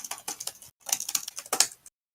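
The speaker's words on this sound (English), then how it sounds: "I can already hear you typing up that score" Quick bursts of keyboard typing, close and crisp, in two short runs separated by a brief pause, with no voices present.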